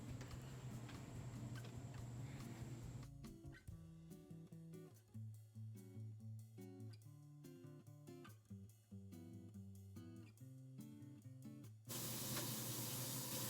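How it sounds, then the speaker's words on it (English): Pieces of hand-dyed purple and blue linen are rinsed under a water spray, a faint hiss at the start and again at the end, with a quieter, more uneven stretch of running water between. "now I'm gonna go ahead and rinse the purple and the blue one"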